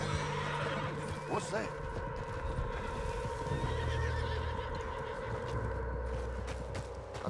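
In Red Dead Redemption 2, a spooked horse whinnies loudly over steady clip-clop hooves and a low ambient drone, while someone speaks briefly.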